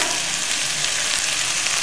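Finely chopped capsicum with oregano, chilli flakes and black pepper stir-fried over a full gas flame, a loud, dense, unbroken hiss of frying, close up with no talking.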